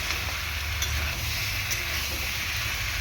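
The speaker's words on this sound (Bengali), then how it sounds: "তো চিনি দিয়ে হালকা করে একটু কষিয়ে নেব।" A fish head with young pumpkin, sugar and green chillies sautés in a hot pan, giving a steady close sizzle and frying hiss with faint stirring scrapes, with no talking.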